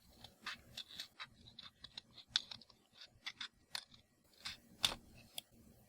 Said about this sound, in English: Take a pair of scissors and cut it out.